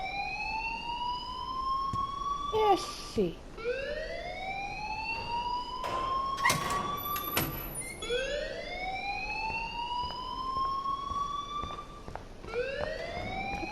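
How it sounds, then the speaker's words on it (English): In Life is Strange, a wailing electronic siren-style alarm rises and falls in repeated sweeping cycles, fairly loud. Brief voices and a short spoken phrase cut in midway. "please turn off that alarm since that's your job"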